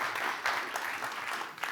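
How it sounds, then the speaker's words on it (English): Audience at a packaging innovation award ceremony claps for a finalist, a fairly soft, even wash of applause heard from some distance, steady throughout with no speech over it. "Please give her a warm round of applause, Karina Cerdera."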